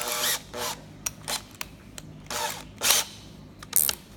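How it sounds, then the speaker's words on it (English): A power drill fitted with a bigger drill bit, set for driving into lumber, runs in short bursts: several brief whirring pulses of varying length separated by quiet gaps, fairly close and moderately loud. "I'm gonna put this bigger drill bit in here."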